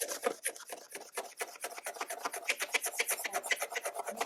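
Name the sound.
scraping the oxidized surface off a plastic car headlight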